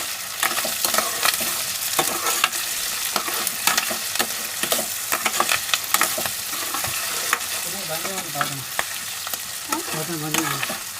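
Carrot pieces and curry leaves fry in a pan, giving a steady crackling sizzle with stirring scrapes and clinks throughout, close and fairly loud with no talking.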